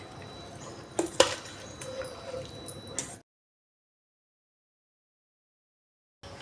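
A spoon stirs mango pickle in a container after a cooled mustard-seed tempering is mixed in, giving a few soft scrapes and two sharper clinks for about three seconds, then silence.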